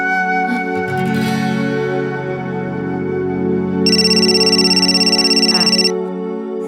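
A telephone rings with a bright electronic trill for about two seconds over a sustained musical background.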